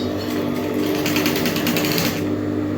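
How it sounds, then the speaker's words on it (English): A sewing machine runs steadily, stitching the seam of a three-quarter straight skirt with a fast, even mechanical whir, close and loud throughout, with no talk. "Then I'll sew 1 inch"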